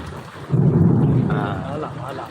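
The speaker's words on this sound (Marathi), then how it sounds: "खूप मोठ्या विजेचा कडकडाट" A low rumble of thunder rolls in after a short pause, swelling loudly then slowly fading, with a voice faintly underneath.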